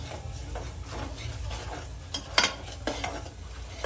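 A spoon scrapes and stirs biryani masala through rice in a pan, a steady close rasping with a few sharper metallic knocks against the pan, no talk.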